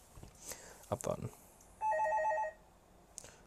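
Telephone ringing: a single short electronic trill burst, close and clear, between scattered rustles and a quiet voice.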